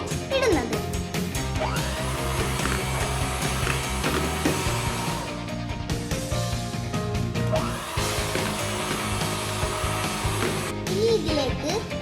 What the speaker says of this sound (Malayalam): ഇനി അതിലേക്ക് കുറച്ചായി പഞ്ചസാര ചേർത്ത് നന്നായി ഒന്ന് ബീറ്റ് ചെയ്തെടുക്കുക